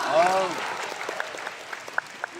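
Audience applause at a leadership training meeting in Kuala Lumpur: a broad, steady patter of many hands clapping, with a voice briefly over the start and a few sharper claps near the end.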